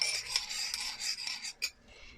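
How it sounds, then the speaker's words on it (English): Small utensil stirring a homemade facial serum with drops of rose oil in a little container, quick faint scraping and rubbing strokes in a short run, then a last brief scrape. "So let's mix that up really quick."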